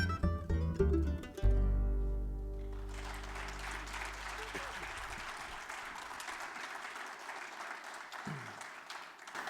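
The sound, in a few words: audience applause after a song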